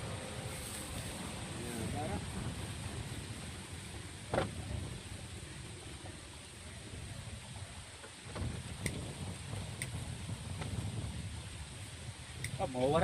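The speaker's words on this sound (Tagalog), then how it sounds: "Mahangin na din." Gusty wind buffets the microphone outdoors, a low rumbling roar with occasional bumps and faint voices in the background.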